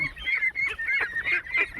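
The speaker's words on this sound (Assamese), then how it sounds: "এইটো হোৱাইট পেকিং হাঁহ" Close, loud honking quacks from a white Pekin duck, several harsh calls in quick succession.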